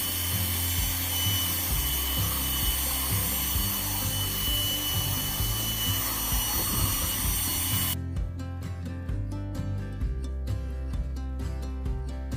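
Steel wool scraping back and forth across a wood board, a steady rhythmic rubbing sound that runs throughout at close range with no talk.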